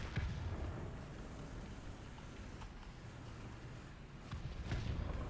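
Artillery shells land around a tank in War Thunder, a deep rumbling barrage with a loud boom at the start and another near the end over a constant low roar.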